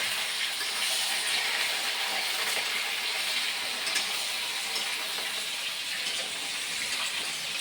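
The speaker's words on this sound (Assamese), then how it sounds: "মাংস ভাজি আছে ইফালে।" Meat fries in a pan with a loud, continuous hiss and sizzle, a dense wash of sound that barely changes. Nobody speaks.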